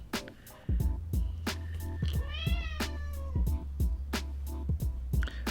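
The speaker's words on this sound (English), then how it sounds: "That's our cat" A pet cat meows several times, with one long drawn-out wavering yowl near the middle, heard close over a steady low hum and a series of sharp knocking clicks.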